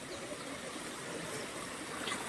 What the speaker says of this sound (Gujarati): પાણીનો અવાજ છે ને એક નંબર આવે છે.